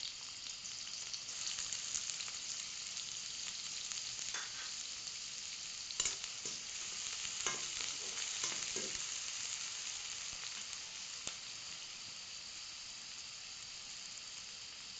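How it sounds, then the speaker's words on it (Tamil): Sliced onions sizzle and crackle in hot oil in a pan while a carrot and egg poriyal is prepared, a steady close frying hiss with occasional sharper pops and stirring, no talk. "இப்போ வெங்காயம் போடுறேன்"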